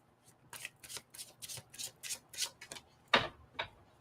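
Tarot cards being shuffled by hand, a run of about eight quick riffling bursts close up, ending in a sharper slap, with no talking.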